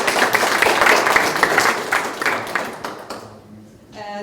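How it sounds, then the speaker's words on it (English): An audience at a live-streamed conference gives a round of applause, dense clapping that gradually thins and fades away, followed by a brief spoken voice at the end. "Can we get a round of applause,"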